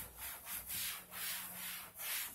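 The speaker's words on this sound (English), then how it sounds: "I'm going to wipe this entire thing down." Rhythmic rubbing as a cloth wipes down a Dragon's Lair arcade cabinet with a black finish treatment, steady back-and-forth strokes about every half second, close and alone with no talking.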